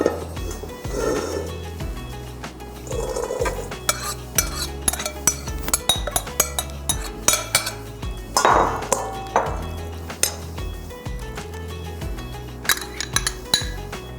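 A spoon stirs a tuna and chickpea salad in a small bowl, producing repeated clinks and scrapes against the dish in an irregular rhythm, close and fairly loud, with soft shuffling between strokes.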